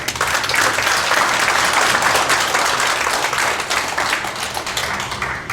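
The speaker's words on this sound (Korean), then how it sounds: "잠깐 일어나 박수 한번 보내드리겠습니다" Audience at a Buddhist patriotic forum applauds steadily for several seconds, a dense wash of many hands clapping indoors with no talk over it.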